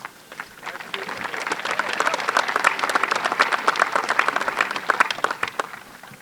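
An audience applauds at a high school graduation ceremony. Dense, steady clapping swells quickly to full volume and holds for several seconds without easing off.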